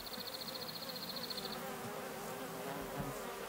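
Bees and bumblebees buzz around tomato flowers in a garden, a steady continuous insect drone with a brief higher-pitched whine near one individual, soft and outdoors.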